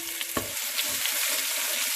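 Onion frying in hot red palm oil gives a steady, close sizzling hiss, with a few soft stirring knocks near the start.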